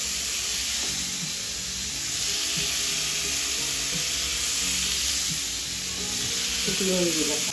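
Chickpeas sizzle and fry in a nearly oil-free wok while a spatula stirs them, a continuous close hiss with repeated scraping strokes throughout; salt has just been added.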